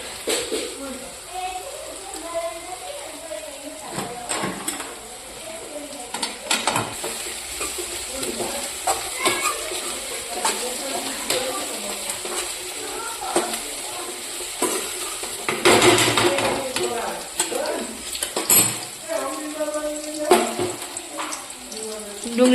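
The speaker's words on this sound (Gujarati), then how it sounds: "ડુંગળીનો વઘાર કર્યો લીલી ડુંગળી" Onion and green onion tempering in a pan for an eggplant dish in a village kitchen, with frying sizzle and intermittent stirring scrapes near the microphone, along with running water and people talking over it.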